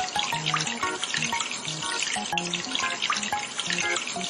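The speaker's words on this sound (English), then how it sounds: "Wash the bathtub." Water pouring steadily from a tap into a bathtub being washed in a kids' house-cleaning game, heard as a loud continuous rush, with short tonal game beeps running throughout.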